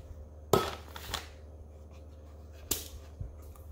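Eggs tapped against a hard kitchen surface give two sharp, close cracks about two seconds apart, with a softer knock after each. A steady low hum sits underneath.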